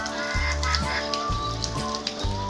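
Steady rain falls on potted plants set outside after a long dry spell, a continuous close patter and hiss with a low rumbling hum running underneath.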